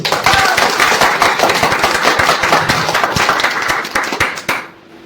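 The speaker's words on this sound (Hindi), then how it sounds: "जोरदार तालियां इधर से।" Loud applause fills a hall, dense rapid clapping from many hands held at a steady level for about four seconds, then quickly dying away to near silence.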